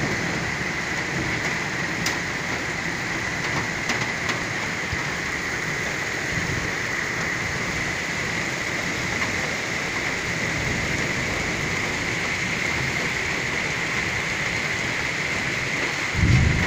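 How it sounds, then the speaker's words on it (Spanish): Heavy rain pours down steadily during a thunderstorm in Madrid, with no talk. A dense, loud hiss stays even throughout, with faint rumbles beneath it. "Hostia, está empezando a llover un montón."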